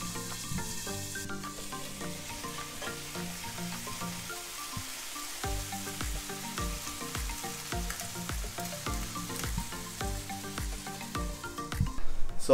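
Peruvian anticuchos fry and sizzle in a covered pan on the stove, a steady close crackle with small pops that runs the whole time with no talking and gets louder near the end.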